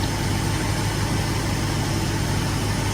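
A 1969 Shelby 428 Cobra Jet V8 idles steadily with a constant low rumble and hum and no speech, loud and unbroken throughout.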